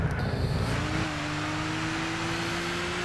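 A BMW M4 engine in Gran Turismo 6 drones loudly and steadily, its pitch rising gradually as the car accelerates, with a slight change in tone around the one-second mark and no talking.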